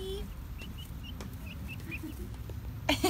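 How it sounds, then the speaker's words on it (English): Pet chickens clucking close by, a series of short, soft clucks and chirps spread across a few seconds over a muffled background, ending with a brief louder rustle. "These are Sam's chickens, Dee Dee and Darla."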